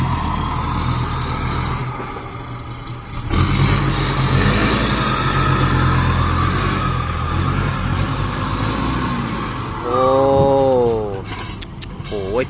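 A dump truck with a Hino J08E engine labors and revs while pulling off on soft ground, a heavy diesel drone that swells and dips, with a rising whine near the end and speech over it.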